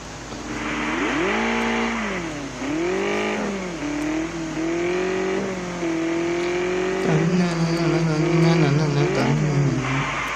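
A BMW M4 engine in the Car Parking Multiplayer game revs repeatedly, its pitch sweeping up and down in several strong surges, then holding a steady high drone near the end, loud and close with no talking.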